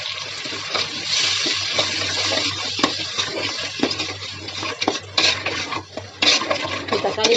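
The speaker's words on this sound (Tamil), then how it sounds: "தக்காளி நல்லா வதங்கட்டும்" Tomatoes sautéing in oil for a dry fish curry, a soft sizzle with scraping and rubbing stirs of a utensil against the pan, irregular strokes close by.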